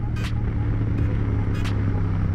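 A Yamaha TDM 900 parallel-twin motorcycle engine runs with a loud, steady low rumble, broken by a few brief higher-pitched bursts, with no one talking.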